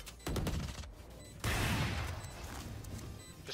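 Gunfire in the tactical shooter Valorant, two loud bursts of shots with rattling echo, the second longer and trailing off.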